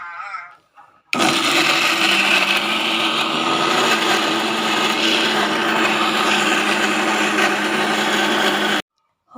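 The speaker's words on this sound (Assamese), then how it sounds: "ইয়াৰ ফালে লৈ ল'লোঁ মিক্সাৰত" A kitchen mixer grinder whirs loudly and continuously for about eight seconds, crushing chopped ginger with a pinch of salt, starting and stopping abruptly.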